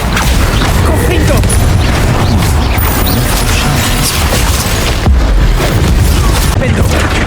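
Confringo fire-blast spell in the video game Hogwarts Legacy, fought against Inferi: a loud, dense stretch of booming blasts and crashing, rumbling impacts with no pauses, close and heavy throughout.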